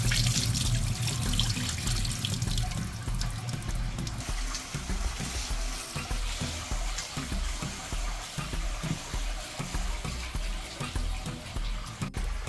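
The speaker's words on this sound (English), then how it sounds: "And usually I like to wash my rice until the water runs clear." Two cups of rice being rinsed in a sink under a running kitchen tap, with a steady close rush of water and grains swishing throughout, louder splashing in the first few seconds.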